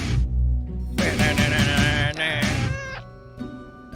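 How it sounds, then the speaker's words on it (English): A cat in a video game meows several times in quick succession, clear and close, with a low hum underneath. "Oh, I just heard a cat meow."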